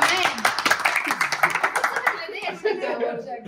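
A few people clap their hands in encouragement at a celebration, a rhythmic patter of claps heard close alongside excited chatter and light laughter.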